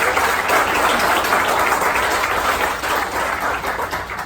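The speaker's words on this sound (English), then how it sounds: "Big round of applause for that." A meetup audience at an iOS accessibility talk claps in a full, even round of applause that fades slightly toward the end.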